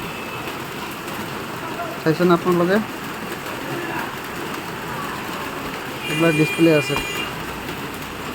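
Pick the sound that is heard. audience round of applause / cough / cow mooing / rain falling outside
rain falling outside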